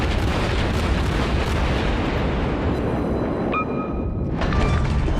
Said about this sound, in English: this is my last salvo against him